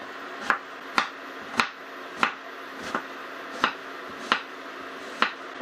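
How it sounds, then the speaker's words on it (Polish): A knife dicing an onion taps sharply against a cutting board in an even rhythm, about nine crisp chops close by with quiet pauses between. "Zaczynam od cebuli, którą pokroję sobie szybko w kosteczkę"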